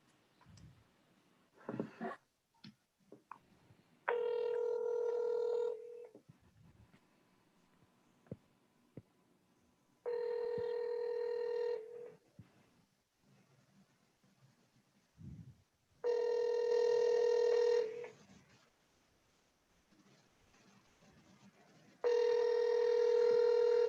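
Outgoing telephone call ringing back in repeated long, steady ring bursts separated by quiet gaps, with a few clicks and brief dial-tone chirps between rings, fairly loud and clear.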